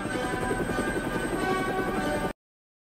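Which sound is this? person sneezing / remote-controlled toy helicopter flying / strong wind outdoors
remote-controlled toy helicopter flying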